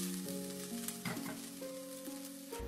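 Lemongrass herb paste sizzles steadily as it is stir-fried in a hot pan for a Khmer dish, with occasional scraping stirs over a continuous close frying hiss and no talking.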